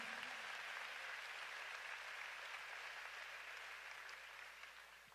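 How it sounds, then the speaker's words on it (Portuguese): A church congregation applauding during a sermon, producing a dense, even wash of many hands clapping. It is heard at a distance and quite faint, staying steady throughout and easing slightly at the close. "Você consegue aplaudir ao Senhor pela sua palavra agora?"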